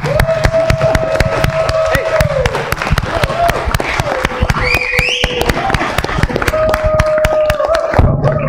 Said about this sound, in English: everybody standing up and clapping